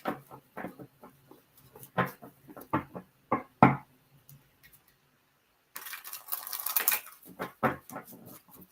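Tarot cards being shuffled by hand: a run of soft papery riffles and taps, moderately close and quiet, with a brief hissy flurry toward the end.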